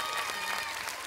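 A television studio audience at a children's singing talent show applauds two young girl singers in a brief, soft wash of clapping.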